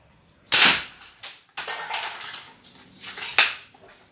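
A slide-action slingshot fires small 7 to 10 mm balls during target practice, giving several sharp, close snapping shots at uneven intervals with lighter rattles and clicks between them.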